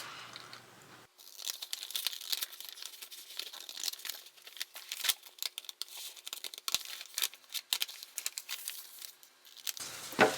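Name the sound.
scissors cutting a paper bag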